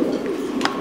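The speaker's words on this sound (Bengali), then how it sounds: "ভাই দেখতে পাচ্ছি বাংলার ঐতিহ্যবাহী একটা কবুতর, ডাবুক।" A Dabuk pigeon, a traditional Bengali breed offered for sale with its pair, gives a short, close coo that rolls over less than a second.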